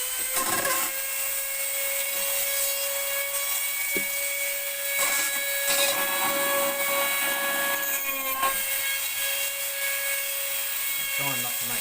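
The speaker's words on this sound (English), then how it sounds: "I've got my favourite little tool, little Lozito, and I've now got a cutting tool on it." A small rotary tool with a cutting disc whines steadily at high speed while cutting plastic on a model ship, loud and close, with a few short bumps and changes in load as it bites.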